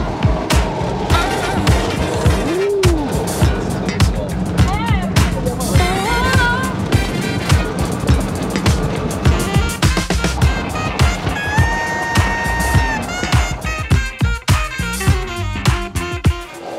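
Loud, continuous street rumble of a tuk-tuk ride through Watamu, Kenya, with engine drone, road noise and passing traffic sounds throughout, plus a few brief tonal squeals and horn-like notes.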